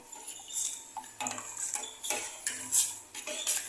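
Homemade fabric conditioner being stirred in a container, with quiet clinks and scrapes of a utensil against the sides coming in irregular bursts, close and soft.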